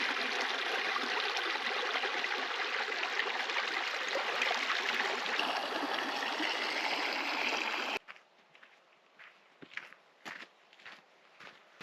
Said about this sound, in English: use some of this fresh mountain creek water here